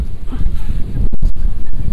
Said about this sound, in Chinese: 风很大